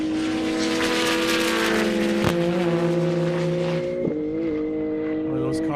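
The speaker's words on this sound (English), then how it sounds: "Cars are loud and they sound good." Drag race cars accelerate hard down a half-mile airport strip in Marion, Indy Airstrip Attack, including a Porsche, their loud sustained engine roar rising in pitch with a gear change midway, close and dense throughout.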